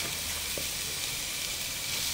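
Coconut milk with lemuni leaves simmers in a pot, a steady close bubbling hiss that holds evenly throughout with no speech.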